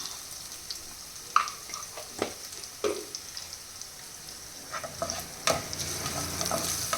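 Turmeric sizzling and frying in a hot pan while a tapioca side dish is cooked, with a soft steady crackle and several sharper stirring scrapes and clicks close by.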